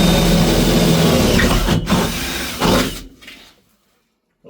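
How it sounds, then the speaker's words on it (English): A power drill with a 10mm bore cuts through metal on a car, giving a loud, sustained grinding whine that wavers briefly and then cuts off, leaving silence. "10mm drill bit, not drill bit, a bore,"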